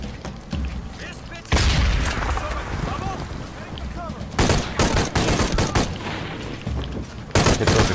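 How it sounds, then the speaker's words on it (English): Gunfire and a grenade blast in a Shadow of the Tomb Raider firefight: loud bursts of rapid shots broken by heavy booming impacts, close and dense, with a voice talking over the fighting. "Oh, another grenade."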